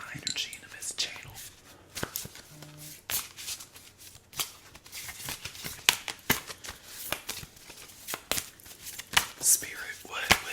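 Tarot cards being shuffled in repeated quick riffles and slaps, crisp and close, interspersed with soft whispering.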